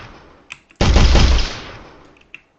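A single loud gun blast with a long booming tail in an Unreal Engine video game, framed by faint small clicks before and after, no talk.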